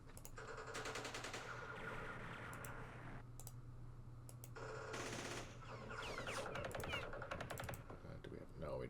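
Gunfire in the Vietnam war strategy game Campaign Series Vietnam, heard as rapid clicking bursts and rattling volleys that start and stop over a steady low hum, with a voice talking through it.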